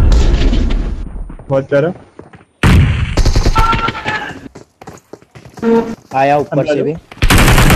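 Rapid video game gunfire in bursts, loud and close, broken by short gaps while someone talks excitedly in Hindi between and over the shots.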